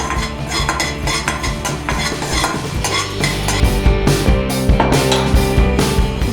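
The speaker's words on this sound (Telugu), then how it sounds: "అదే బాండీలో జీలకర్ర, ఆవాలు, మెంతులు వేసి వేగనివ్వండి" Cumin, mustard seeds and fenugreek fry in hot oil in a kadai for a sesame mango pickle, giving a steady close crackle and sizzle with stirring scrapes, mixed under tonal background music throughout.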